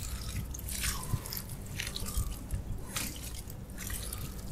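Water added to a worm bin of Eisenia andrei red wigglers, making faint soft splashing and dripping with moist squishing bursts at irregular intervals, quiet and close.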